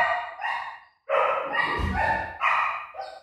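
A dog at a door yips, whines and barks in short high-pitched bursts, close by, with some scratching or bumping between the cries.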